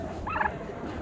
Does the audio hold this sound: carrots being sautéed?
no